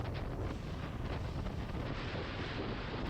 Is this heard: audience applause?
no